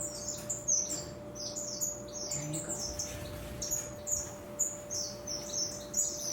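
Birds in a home aviary chirp and twitter steadily, a dense run of high, bright calls close by, while a person speaks a few words over them.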